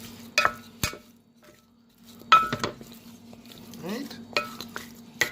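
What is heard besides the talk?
stirring chicken wings marinade with black pepper in a bowl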